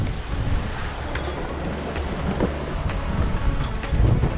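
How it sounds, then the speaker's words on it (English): Big ocean waves and strong wind at sea heard from a sailboat, constant loud wind buffeting the microphone over rushing surf and water sloshing against the hull. "Pretty big waves out here still, bobbing up and down."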